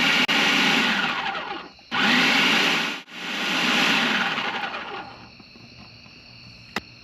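A countertop blender blitzes zucchini pesto sauce in loud bursts, three pulses of steady whirring broken by short pauses, then the motor cuts off and leaves a faint hum with one small clink.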